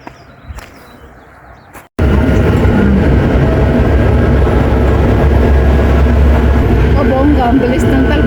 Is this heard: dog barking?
no